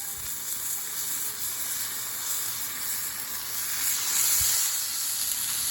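Venison backstrap loin sizzling on a hot Blackstone griddle set to high, a steady dense crackling hiss throughout with one faint low thump.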